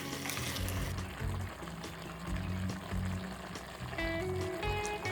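Water poured into a pot of frying mutton with tomato and chilli paste for biryani, a steady pour and sizzle close up with no talk.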